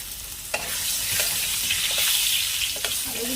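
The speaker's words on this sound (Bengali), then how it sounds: "এবার আলুটাকে একটু ভেজে নেবো, তো তেলের মধ্যে একটুখানি হলুদ দিয়ে দিয়ে যাবে" Potatoes fry in oil with turmeric in a wok, giving a constant loud sizzle with occasional stirring clinks and scrapes and no talking.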